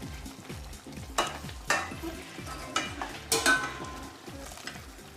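Black risotto is stirred in a pan on the stove, with soft wet scraping and a gentle simmering sizzle, punctuated by a few louder spoon clanks against the pan, close and fairly quiet.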